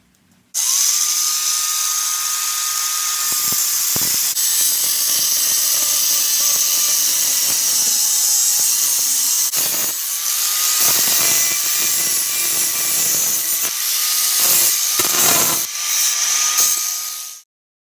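A power tool whines steadily while a small heart-shaped keychain is cut out of metal. The close, loud, high-pitched grinding runs almost without a break for about sixteen seconds, with brief dips in pitch and load near the end.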